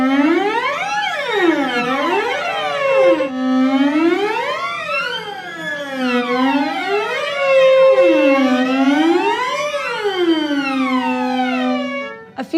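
Cello and bass students slide their fingers up and down the strings together in a pressed-down glissando shifting exercise, making loud, continuous overlapping siren-like swoops that rise and fall in waves with no talking.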